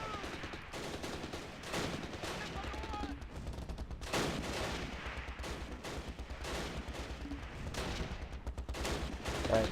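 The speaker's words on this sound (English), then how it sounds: "A lot of fire in this area, so we're just going to try and drop a couple of our last mortar rounds in there." Gunfire and mortar fire from the video game Close Combat Last Stand Arnhem, with dense, overlapping bursts of shots and thuds crackling steadily throughout amid a busy battle din.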